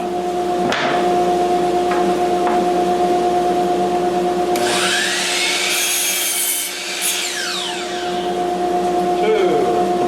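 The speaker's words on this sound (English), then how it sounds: "Turn on the dust collector." A dust collector runs in a woodworking shop where pine is being milled for tongue and groove cabinet doors, holding a loud constant drone with a steady hum throughout, while a brief cutting or whooshing burst passes over it midway.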